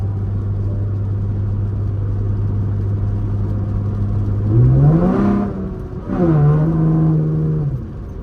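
A V6 fifth-generation Chevrolet Camaro with its mufflers deleted drives along, its low engine drone steady from the cabin before rising in two revving pulls with a raspy, loud exhaust note.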